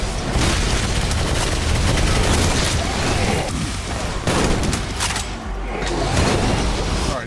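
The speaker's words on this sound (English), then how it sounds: "It's always back to these chain gunners." Chaingunner enemies in the Doom mod Project Brutality unleash a loud, continuous barrage of rapid gunfire and booming impacts, nearly unbroken, with brief dips in intensity.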